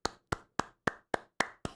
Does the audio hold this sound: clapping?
yes